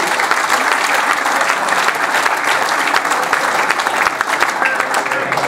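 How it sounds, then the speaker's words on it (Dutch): Sustained audience applause at a charity auction, a dense, loud wash of clapping hands that continues steadily throughout with no pauses. "En dat is gewoon ook een applaus waard."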